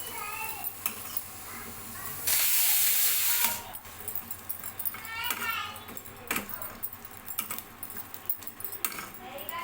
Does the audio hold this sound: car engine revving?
no